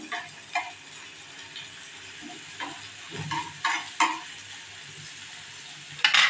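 Gentle frying crackle of onions in a pan with intermittent stirring scrapes and taps, fairly quiet and uneven.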